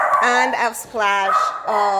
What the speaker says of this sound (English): She barks at anything that moves outside